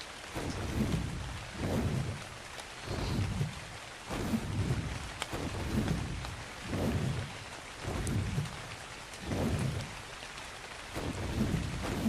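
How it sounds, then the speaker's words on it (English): Rain with rolling thunder in the Ark Survival Ascended video game, a steady downpour swelling in repeated surges roughly every one to two seconds, loud and continuous with no voices. "The rain now has started."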